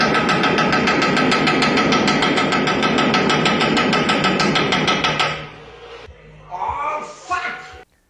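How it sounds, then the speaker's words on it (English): A loud truck engine runs with a rapid, hammering knock like a major engine problem for about five seconds, then cuts off; faint clunks and a brief voice follow. "repairing a truck by making it sound like there's a major engine problem"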